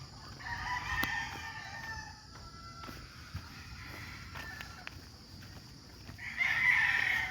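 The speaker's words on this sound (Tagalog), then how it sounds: "Dami inahin dito." Roosters and hens on a gamefowl farm in Batangas, faint cackles and crowing-like calls from birds at a distance over steady outdoor background noise, with one louder call near the end.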